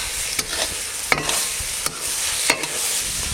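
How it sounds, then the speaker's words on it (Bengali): Chopped tomato and green chilli stir-fried with spices in a pan, a steady sizzle broken by repeated scraping strokes of a spoon roughly every half second to second, close and moderately loud. "এখন দেবো টমেটো কুচি আর লঙ্কা কুচি"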